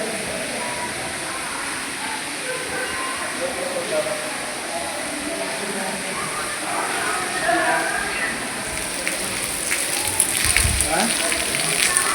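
Steady rain falling at a Hindu temple during a crowded festival visit, a broad continuous hiss of drops close by that holds throughout, with people talking faintly under it.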